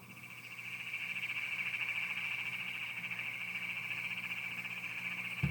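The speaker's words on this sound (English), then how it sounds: "now this is our Great Plains toad." A Great Plains toad gives a continuous high-pitched trill, loud and steady, with a crickety, buzzing quality, sounding alone with no voices until the very end.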